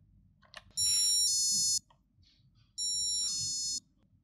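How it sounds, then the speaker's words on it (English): A PiicoDev buzzer wired to a Raspberry Pi Pico sounds two sustained electronic tones, each about a second long and separated by a short pause, shrill and close with a little background hiss. "press Ctrl D to reboot your Pico and listen for the buzzer"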